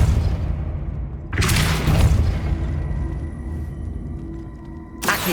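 Depulso force-push spell cast in Hogwarts Legacy, two loud whooshing blasts a few seconds apart over a low rumbling game ambience, with no talking.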